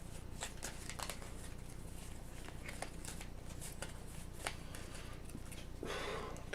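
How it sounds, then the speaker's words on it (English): A deck of cards for the Aeon's End Legacy game being shuffled, heard as quiet repeated riffling bursts and soft flicks at tabletop distance, with no talk over them. "So let's shuffle up and see what we got here."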